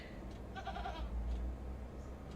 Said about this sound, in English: The goat!